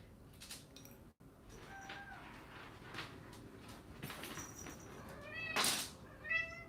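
A cat meows several times, drawn-out and wavering, fairly close, rising louder near the end over quiet background rustle.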